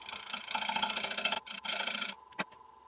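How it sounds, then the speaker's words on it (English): A 3/8 inch ball gouge trues the rim of an Irish walnut bowl on a wood lathe, making a steady loud rasping cut that breaks off briefly twice, with one sharp knock near the end and no talk. "So first job will be to true up the rim of the bowl"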